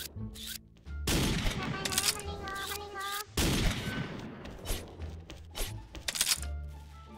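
Two sharp, loud shots from a QBU sniper rifle in the shooter game XSHOT, spaced a couple of seconds apart, with game sounds and a voice talking between and around them.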